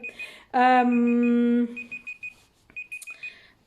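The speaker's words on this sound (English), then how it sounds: "that's my timer going off, guys" A timer alarm sounds a single loud sustained electronic beep lasting about a second, followed by short repeated high beeps, close and clear against a quiet background.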